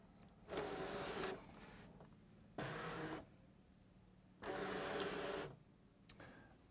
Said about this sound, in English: we're going to take the mat, load it into the machine